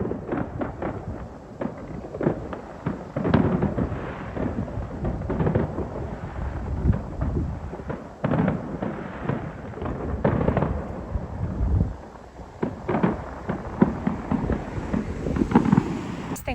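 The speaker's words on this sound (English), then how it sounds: "look at these fireworks." Fireworks bursting on bonfire night, a continuous barrage of distant booms, crackles and rumbling bangs at irregular intervals, heard from outdoors at some distance.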